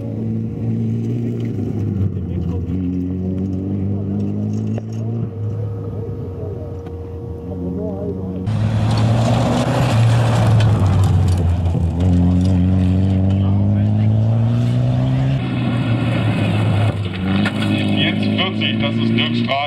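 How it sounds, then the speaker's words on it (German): A 260 hp Mitsubishi Galant VR4 rally car at the 2019 Lausitz Rallye roars loudly and close by. It pulls hard through rising, shifting engine notes, and the sound jumps up sharply partway through. A voice speaks at times. "Das ist Dirkstraße in dem Mitsubishi Galant VR4. 260 PS stark"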